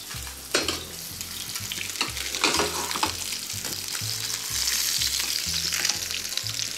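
Halibut fillet sizzles in a hot pan beside a braised kale dish, a steady bright frying hiss with a repeating low rhythmic thump running underneath, continuous and close with no talking.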